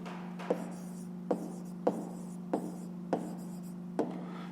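A pen writes an answer in a notebook during a fifth-grade maths exercise, giving six soft taps and scratches at a steady pace over a low background hum.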